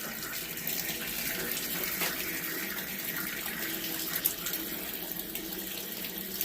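Very hot water pours out and drains across a wet basement floor in a steady, close, continuous rush with a few small splashes and no voices.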